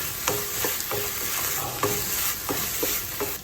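Raw mango rice is stirred with boiled black chickpeas in a pan, giving repeated scraping strokes roughly every half second over a steady sizzle, close and clear with no speech.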